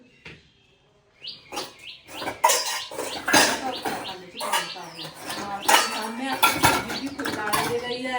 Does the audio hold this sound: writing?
no